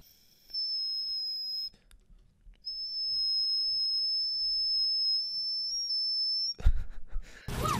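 A sustained, pure high whistle tone from a video game sounds in two long stretches separated by a short gap, then ends in a burst of noisy game effects.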